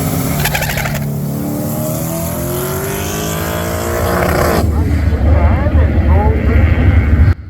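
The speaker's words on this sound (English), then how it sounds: "So if you heard there, I hit the rev limiter." Turbo LS-powered race car on a track, its engine droning loudly and steadily, then rising harder with a rough, stuttering edge near the end, under cabin noise and a voice.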